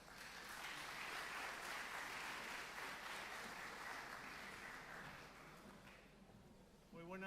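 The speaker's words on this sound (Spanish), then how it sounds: "Un aplauso, por favor." An indoor audience at an evening church pastoral talk bursts into sustained applause, a dense loud clapping that holds steady before tapering off as a voice begins speaking at the very end.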